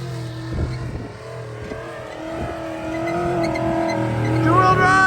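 A Trailblazer with a 5.3 LS V8 revving and pulling away, its engine note steady at first and then climbing louder toward the end, with short rough bursts early on.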